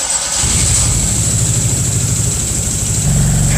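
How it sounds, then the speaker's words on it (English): A project car's engine cranks and catches for the first time, then settles into a loud, steady idle with a rhythmic low chug that deepens near the end. "Firing up the engine for the first time is a major milestone."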